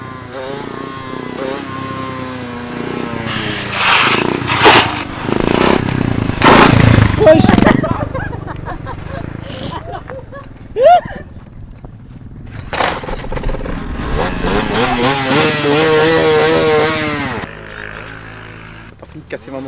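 A motorcycle engine revs hard in repeated bursts during a wheelie session, loud and close, with people talking over and between the revs.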